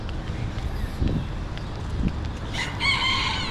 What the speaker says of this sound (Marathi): 23व्या मजल्यावर आवाज आला याचा कोंबड्याचा.